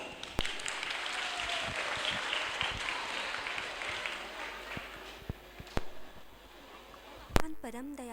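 Audience applause welcoming drama performers staging Putana Vadh, moderate clapping that thins out midway into scattered claps, with a brief voice near the end.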